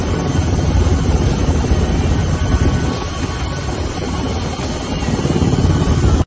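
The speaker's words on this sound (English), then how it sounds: "It was so bad here that a helicopter was needed." A helicopter hovers near a storm-hit cruise ship at sea, its rotor and engine roar loud, close and continuous throughout with steady low throbbing.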